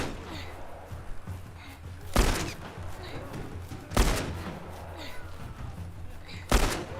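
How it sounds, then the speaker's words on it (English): Gunshots fired in The Last Of Us video game: three loud, sharp blasts spaced a couple of seconds apart over a low ambient game rumble, with no talking. "Can I just shoot it off? I've got infinite ammo."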